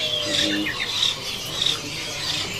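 A male kinoi songbird gives short, bright, high calls in a few separate bursts, with faint background noise between them.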